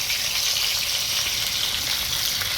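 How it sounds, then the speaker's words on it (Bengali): Pieces of freshly caught pond fish fry in hot oil, giving a steady, dense sizzle that stays close and even from start to finish with no voices. "এটা হচ্ছে প্রথম ধাপের মাছ ভাজা"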